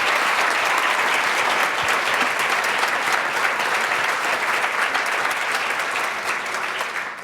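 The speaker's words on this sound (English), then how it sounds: "how about a round of applause for the Center for Peace and Commerce" A room full of people at an award ceremony claps steadily and loudly for several seconds, the applause fading slightly at the end.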